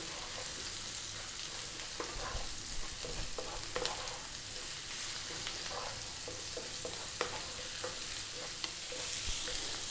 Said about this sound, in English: white mushrooms, which I've cut quite chunky. Salt, black pepper, quite a high heat, 3 minutes, keep it moving